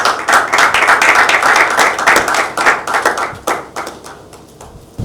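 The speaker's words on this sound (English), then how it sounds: "Let's give a round of applause." Applause from an audience at a Commonwealth Day ceremony and swearing-in of new executive members: many hands clap densely and loudly, then thin out and fade over the last second or two, with no talk over it.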